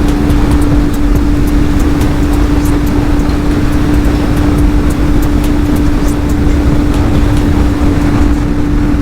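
A Benelli 502C motorcycle engine drones loud and steady at high revs while riding, with heavy wind rush over a constant tone and no voices.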